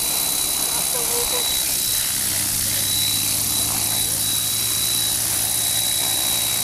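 An electric RC model helicopter flies at the RC ASEANA airfield, giving a continuous, loud whirring whine with a thin high tone. Nearby voices talk over it throughout.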